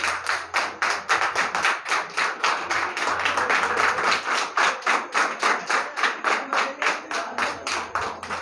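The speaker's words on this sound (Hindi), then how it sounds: "तो आज लड़के खड़े होके ताली बजाओ" A group of boys standing and clapping their hands in a classroom, a steady run of sharp, close claps in a brisk, uneven rhythm that swells briefly in the middle before settling back.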